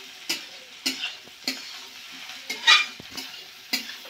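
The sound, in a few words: potatoes and cauliflower frying and being stirred in pan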